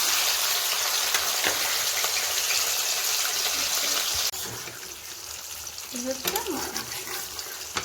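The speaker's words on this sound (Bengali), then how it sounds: "ম্যারিনেট করা মাংসটা এবার আমি কড়াইতে দিয়ে দেবো" Marinated chicken frying in a kadai gives a steady, loud broadband sizzle that drops slightly midway as the pieces settle, with a few stirring clinks toward the end.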